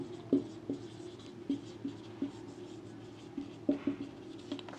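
Chalk or marker scratching out short strokes on a board, in light intermittent taps and scrapes at an uneven rhythm, close and fairly quiet, with no voices.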